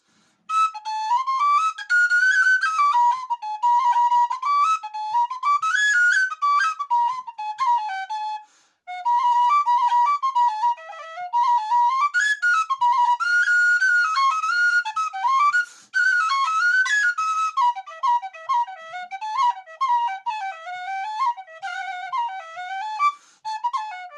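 A Feadóg tin whistle plays a bright, lively melody alone, clear and close, with rapid ornamented runs and a couple of short breaths between phrases.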